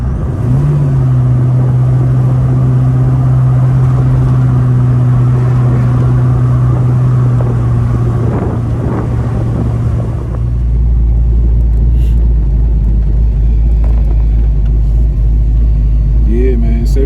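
A 1978 Chevy's engine rumbles loudly from inside the car on a ride-along, a deep sustained drone that drops into a heavy low roar partway through, with a voice talking over it.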